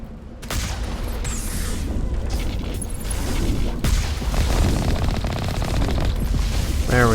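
Rapid automatic gunfire from Mass Effect Legendary Edition, loud dense bursts and booming shots filling the whole stretch with barely a pause, no voices.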